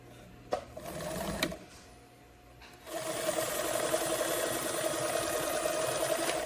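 A sewing machine stitching the short seam of wide-leg pants, with two brief bursts of stitching and a pause, then a long steady run of rapid whirring stitches up close.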